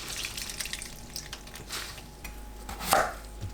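Knife chopping radish, onion and green chili on a cutting board, a series of close soft cuts ending in one louder thunk near the end, with no voices.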